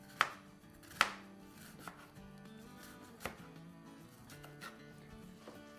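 A knife slices half a red onion on a board, a handful of sharp, separate cuts spaced irregularly, close and fairly quiet, with no talking.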